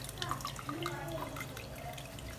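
Plain water is poured over cooked pasta for white sauce macaroni and drained through a strainer, giving a faint, steady trickling and dripping close by, with no talking.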